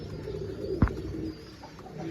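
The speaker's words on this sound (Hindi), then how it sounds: "ये जी माशाल्लाह कुछ कबूतर आज उड़ाए हुए थे, ये नीचे आना शुरू हो गए हैं" Soft coos of high-flying pigeons returning to a loft murmur against a steady background hiss, broken by one brief thump near the middle.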